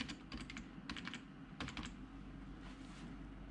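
Quiet bursts of keystrokes on a computer keyboard, clustered into three or four quick runs separated by pauses, against a low steady room hum with no voices.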